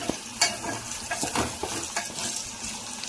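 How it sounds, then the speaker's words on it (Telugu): A spoon stirs gokarakaya curry with ginger-garlic paste as it fries in a pan, with a steady sizzle under scraping and stirring scuffs close by. "అల్లం వెల్లుల్లి పేస్ట్ వేసుకొని బాగా కలుపుకోవాలి"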